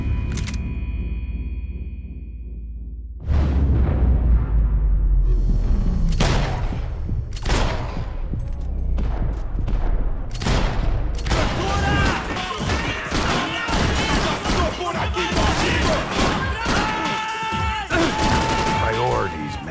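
Gunfire and explosions in the video game Max Payne 3 burst out after a quiet start, with loud sharp shots, rapid volleys and heavy thuds packed densely over a rumbling background.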